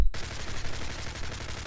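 A Scar-L rifle in MW3 fires a fast, steady automatic stream of closely spaced shots, loud and continuous from just after the start to the end.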